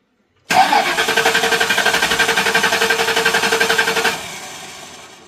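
Engine of a 1968 Ford cranking without catching: a rapid, evenly pulsing starter churn begins abruptly, runs loud and steady for nearly four seconds, then cuts to a faint fading whir.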